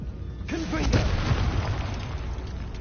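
Confringo fire spell exploding in Hogwarts Legacy, a loud booming blast followed by a rumbling, crackling tail, with a voice speaking briefly over it.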